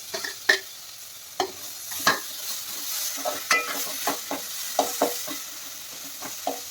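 Tomatoes and masala frying in a pan while being stirred, with a quiet background sizzle broken by a dozen or so sharp scraping strokes of the spoon at an uneven pace, close up and without speech.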